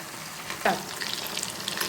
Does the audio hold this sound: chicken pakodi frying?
yes